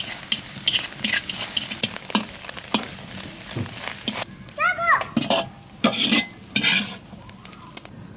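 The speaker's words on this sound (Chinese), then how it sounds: "小火慢慢把鸡蛋炒熟，炒碎一点就好了" Eggs stir-fried over low heat in a wok with a little oil give a soft sizzle and scraping stirs. Children's voices are heard in the background, and the sizzle fades to occasional louder scrapes.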